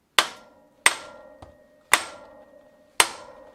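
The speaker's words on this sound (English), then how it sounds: "next I need to whack this with a hammer" Four sharp metallic hammer blows on a bicycle cotter pin ring out at uneven intervals, each with a brief ringing decay, with a faint tap between them.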